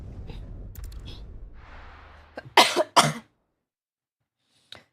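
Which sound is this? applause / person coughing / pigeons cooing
person coughing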